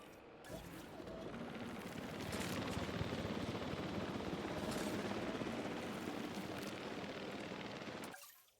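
Helicopter airlift in a video game, a loud steady rotor roar that rises in the first couple of seconds, holds, and cuts off sharply near the end, with no talking.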